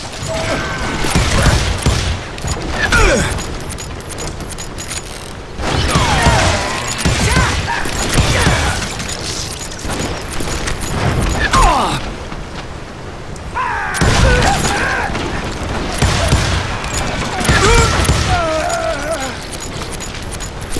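A gunfight in the western game Call of Juarez: Gunslinger gives bursts of loud booming shots and mechanical clatter in repeated waves, separated by brief quieter lulls, with dense action noise throughout.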